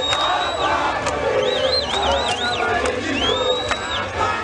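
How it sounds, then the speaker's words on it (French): A huge crowd of Movement for the Liberation of Congo activists shouts and chants at the Athénée de la Gombe in Kinshasa, a loud continuous roar with shrill whistles rising and falling above it. "une foule immense des militants du mouvement de libération du Congo avait pris d'assaut l'enceinte de l'Athénée de la Gombe"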